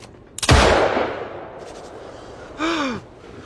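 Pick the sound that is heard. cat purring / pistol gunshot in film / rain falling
pistol gunshot in film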